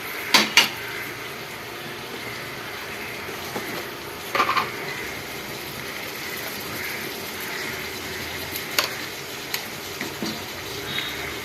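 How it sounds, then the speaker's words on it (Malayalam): Broiler chicken being stirred in a pot with a lid, a few sharp metallic clanks and scrapes scattered over a low, steady background hiss. "നമുക്ക് നന്നായിട്ട് ഇളക്കി കുറച്ചുകൂടി ഉപ്പിട്ടൊന്ന് മൂടി വെച്ച് വേവിക്കാം."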